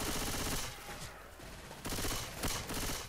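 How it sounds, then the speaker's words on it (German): Rapid automatic gunfire from shooting in Left 4 Dead 2 rattles in loud, dense bursts, breaking off briefly in the middle before resuming, with no talking. "Ich schieße mal ein bisschen rum so."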